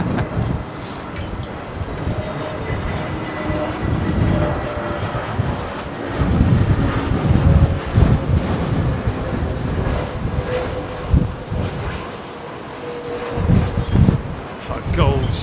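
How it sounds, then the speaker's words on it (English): An SAS jet roars past at Heathrow Airport on a windy day, a loud, swelling engine rumble with buffeting wind gusts on the microphone, and someone talks over it throughout. "Oh my goodness me, another SAS jet."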